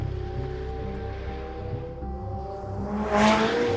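A 2018 McLaren 720S supercar engine hums at a steady idle, then rises to a brief rev near the end, heard fairly close with no talking.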